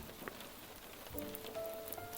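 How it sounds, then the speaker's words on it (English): Steady rain falling on a surface, a soft continuous patter with scattered drops, fairly quiet and close, with faint tonal hums in the background. "I've always found something very calming about the rain."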